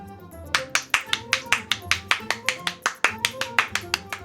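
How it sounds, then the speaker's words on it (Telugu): Hands clap sharply and close by in a quick, steady rhythm, about twenty crisp claps with no talk over them. "క్లాప్స్ కొడుతున్నాడేంటి?"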